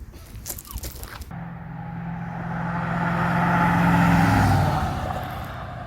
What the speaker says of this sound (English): that stupid air compressor, that thing kicks on every time I'm recording